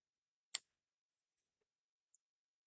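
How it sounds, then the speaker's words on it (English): Two sharp, crisp snips from fine scissors while tying a fly-fishing nymph, well apart, with a faint tick in between against near silence. "I need to grab my fine scissors."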